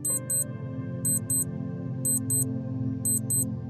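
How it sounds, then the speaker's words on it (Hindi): An alarm clock hidden inside an object during a hide-and-seek challenge, giving paired bursts of high electronic beeps that repeat about once a second over a low, steady background hum, with no talking. "इसके अंदर एक अलार्म क्लॉक है।"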